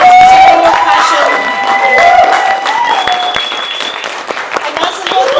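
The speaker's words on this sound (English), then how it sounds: "Please give a big round of applause for everyone that's here on the stage, for Vance, for Burdi, for Annette" Audience applause fills a bar seminar venue in Johannesburg, loud sustained clapping with some cheering that slowly thins out over several seconds, with a voice speaking over it.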